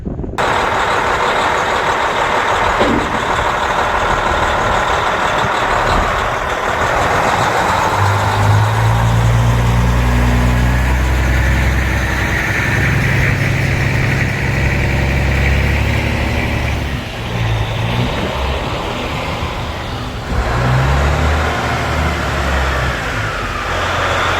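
The engine of an old red 1995 Peterbilt truck idles nearby, a loud continuous diesel rumble with shifting low tones and occasional hisses, running steadily with no talk.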